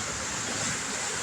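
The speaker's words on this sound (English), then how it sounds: "So it looked like the water is rushing through this side." Water rushes through an underground channel beneath the ground in a steady, loud, continuous broadband roar with no pauses.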